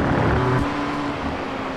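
A BMW M2 race car engine in a sim racing game at Virginia International Raceway drones steadily at close range, with a sustained buzzing note that holds level for under two seconds.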